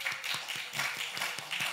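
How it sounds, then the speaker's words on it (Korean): Church congregation at a Sunday Baptist service claps for the design team, a sparse, fairly faint run of individual claps in a loose rhythm, about ten distinct hits. "우리 수고한 우리 디자인팀에 박수"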